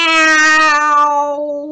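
A single drawn-out meow voiced by a person imitating a cat, clear and close, falling in pitch as it fades.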